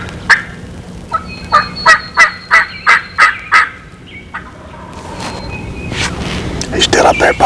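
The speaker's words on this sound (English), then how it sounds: "Boy, he's got a gobble on him." A wild turkey gobbles loudly, a rapid rattling burst of about ten pulses, followed by quieter calls as someone talks low in the woods.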